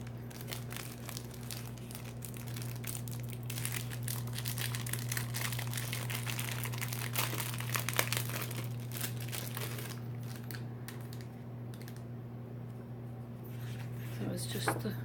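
Stiff printed paper sheets from a Bright 6x6 Designer Series paper pack crinkle and rustle continuously as they are handled, close and fairly quiet over a steady low electrical hum, with a voice talking at times.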